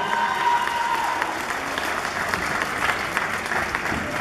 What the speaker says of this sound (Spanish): Fuerte el aplauso para recibirla.